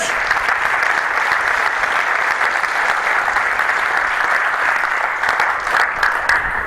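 Congregation clapping together during a church service, dense steady applause that fills the room throughout, close and full, with faint voices mixed in near the end.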